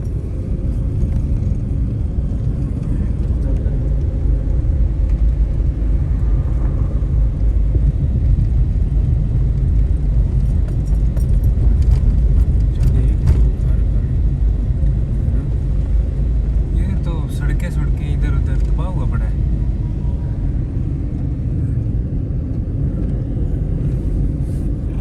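A car driving along a village road in a convoy, a steady loud low rumble of engine and tyres from inside the vehicle, with someone talking over it at times.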